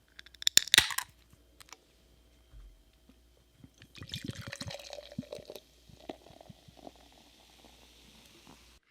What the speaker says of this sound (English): So let's just crack it open.